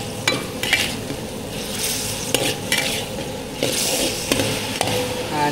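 Prawns and kale stir-fry in a hot pan, with steady sizzling and frying under repeated scraping and clattering strokes of a spatula, close and continuous.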